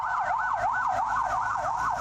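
An ambulance siren wails loud and near in a fast rising-and-falling cycle, repeating steadily without a break, under the escort of police transporting detainees.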